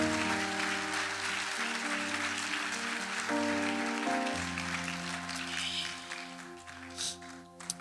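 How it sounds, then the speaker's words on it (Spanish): A church congregation applauds during a worship service, a steady wash of clapping over sustained organ-like keyboard chords that hold throughout and soften slightly toward the end. "Dele aplauso al Señor."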